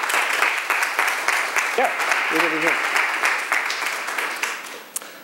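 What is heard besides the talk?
audience applause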